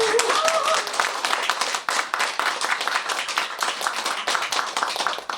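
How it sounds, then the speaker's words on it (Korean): Audience applause at a talk event, many hands clapping in a brisk, crackling stream with individual claps standing out, fairly close and loud, briefly overlapping a voice near the start. "다시 한번 뜨거운 박수 부탁드립니다."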